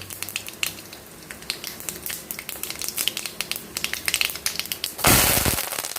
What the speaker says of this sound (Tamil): நல்லெண்ணெய் குத்தி கடுகு போட்டிருக்கோம் கொஞ்சோண்டு உளுத்தம்பருப்பு ஒரே ஒரு மிளகா வத்தல்